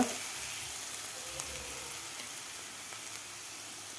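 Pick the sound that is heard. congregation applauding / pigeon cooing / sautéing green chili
sautéing green chili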